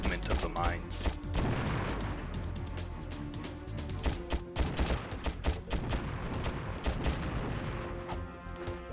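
Blaster fire destroying mines in a Ratchet and Clank game: rapid, loud volleys of sharp shots and crashing explosion hits, dense and continuous throughout with metallic mechanical noises, over game sound effects.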